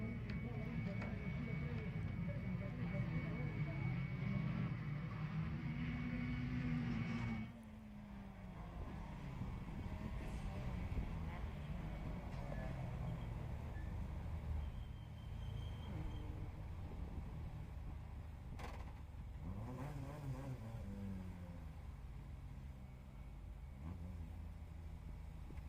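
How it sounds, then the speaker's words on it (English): TCR touring race cars idle and rev as they line up on the grid, a continuous engine drone with rising and falling pitch sweeps, heard at a distance beneath a commentator's talk. "cars are lining up on the grid."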